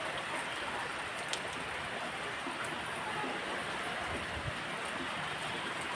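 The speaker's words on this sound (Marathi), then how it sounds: "बघू शकता आमच्या इथे किती पाऊस पडत आहे." Heavy monsoon rain pours down steadily outdoors at a rural home, a dense, even hiss of falling water that continues without pause throughout.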